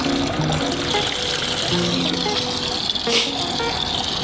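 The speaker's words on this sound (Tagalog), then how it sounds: "Dagdagan natin ng tubig para kahit papaano hindi uminit." Water is poured in to top up and keep things cool, a steady splashing trickle that runs throughout at close range, with faint voices underneath.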